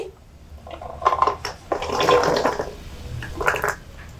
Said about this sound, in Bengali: গরম জলের মধ্যে কেওড়াগুলোকে দিয়ে দিচ্ছি